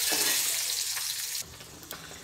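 Chili powder is stirred into hot oil for a prawn gravy, a loud close sizzle with stirring scrapes that drops sharply partway through, leaving a quieter fading fry.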